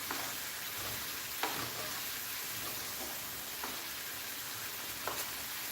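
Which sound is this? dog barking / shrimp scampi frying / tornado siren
shrimp scampi frying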